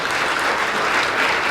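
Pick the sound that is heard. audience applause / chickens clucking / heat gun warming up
audience applause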